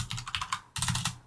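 Rapid clatter of keystrokes on a computer keyboard while entering numbers into a C++ program, two quick bursts separated by a brief pause, close and clear with no voices.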